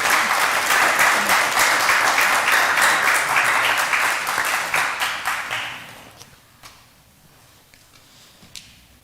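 Audience applause at a live interfaith council event, loud dense clapping from many hands that drops away after about six seconds into a few scattered claps and quiet room sound.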